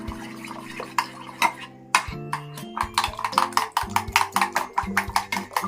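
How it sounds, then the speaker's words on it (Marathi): Small spoon beating an egg mixture for bread-and-egg toast, rapid clinking taps against a bowl that speed up into a steady rhythmic whisking after a brief pause, close and fairly loud, with faint background tones. "चांगलं अंड फेटून घ्यायचं"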